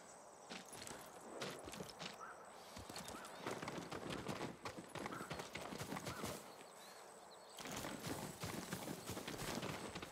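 Horse hooves clop steadily at a walking pace, close up, with a brief whinny and soft rustling in between, from the video game Ghost of Tsushima.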